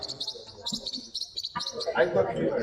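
Forpus coelestis parrotlets chirp at a bird exhibition, rapid high twittering bursts close by, with a voice talking over and after the calls.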